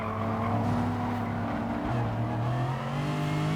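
Racing car engines in a racing video game hold a loud, continuous droning whine whose pitch shifts and steps up as the car runs downhill, slipstreaming close behind a rival.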